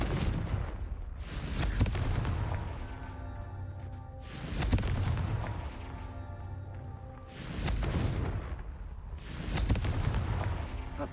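Confringo fire spells in the game Hogwarts Legacy go off as a series of loud, close booming blasts, about four heavy explosions with crackling rumbling tails in a roughly even rhythm.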